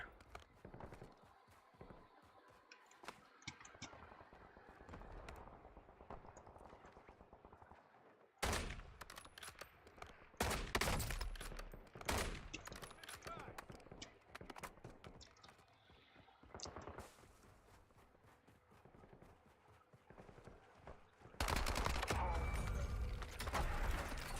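Gunfire in the battle royale shooter Warzone, bursts of rapid shots and loud blasts scattered across quiet stretches, with some faint talk between them.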